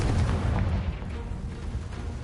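A Confringo spell explosion in the video game Hogwarts Legacy, a deep rumbling blast that fades into a low sustained roar, with no talk.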